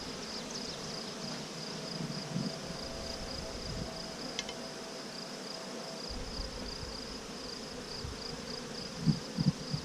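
Russian honey bees buzzing in an open hive during a June inspection, a steady close hum of many insects with occasional louder passes near the end.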